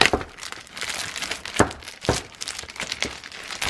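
Crinkly plastic packaging around paper pads for a giveaway being pulled open, a run of close, sharp crackles and crumples with a few louder bursts, no voices.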